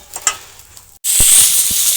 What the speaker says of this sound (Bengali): আমি বাকি মাছগুলোও এইভাবে ভেজে নেব